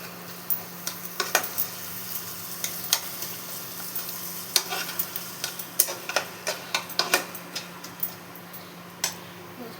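Fresh cream, partly frozen from the fridge, is stirred into fried masala in a pan for bhuna aloo masala. Irregular scraping ticks and taps of the spoon sound over a low, steady sizzle, close by, with no voices.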